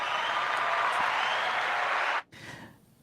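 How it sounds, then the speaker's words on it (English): Audience applause, a steady dense wash of clapping from a gathered crowd that cuts off abruptly near the end, leaving a brief quieter tail. "we're going to just give you a little round of applause."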